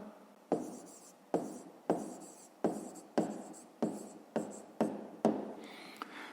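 Handwritten numbers on paper during a fifth-grade math exercise, a run of about ten sharp pen strokes in a steady rhythm, close and fairly quiet with no talk.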